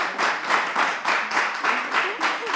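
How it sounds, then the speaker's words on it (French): Studio audience clapping in rhythmic, pulsing waves, loud and close, with a voice audible over the applause. "Est-ce qu'on peut applaudir le pantalon bas et raccompagner Miss Martha?"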